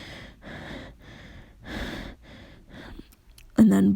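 A voice imitates heavy panting, giving a series of breathy gasps at a steady rhythm, each breath clearly separated, followed by a brief louder vocal burst at the end.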